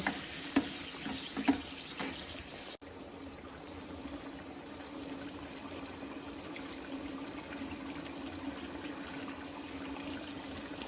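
Sambar simmering in a pan with tempering gives a steady, faint bubbling hiss. A few clinks and taps come near the start, then a short break, then continuous soft boiling.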